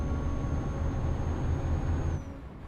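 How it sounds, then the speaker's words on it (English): Cars speed and skid in a truck driving game, a steady engine and road roar with a high tonal screech that drops away after about two seconds. "Those sounds that are going on right now sound like it's cars speeding and skidding out"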